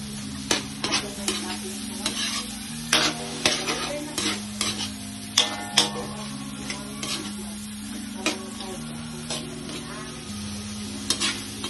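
Shrimp sizzle steadily while cooking in a pan for pasta, with repeated scraping and clicking of a utensil stirring throughout and no talking.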